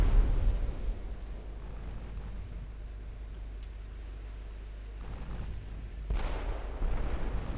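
Heavy naval guns firing high-explosive shells in a warship battle game, a low rumbling boom that rolls on and fades, with further distant reports near the end.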